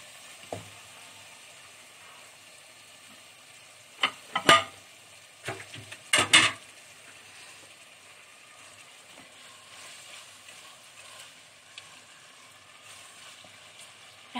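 Washed chicken gizzards and liver frying in a pan, a quiet steady sizzle broken by a few short clattering stirs around the middle.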